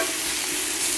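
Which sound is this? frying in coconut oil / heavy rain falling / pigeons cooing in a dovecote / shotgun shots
frying in coconut oil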